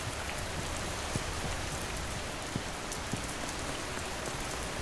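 Steady rain patters onto a surface, a dense even hiss of drops with a few sharper close drips standing out, continuous and moderately loud with no voices.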